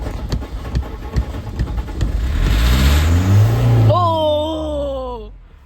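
A diesel car revs and accelerates hard, its engine note climbing in pitch and then falling away as it pulls off, with excited voices talking and cheering around it.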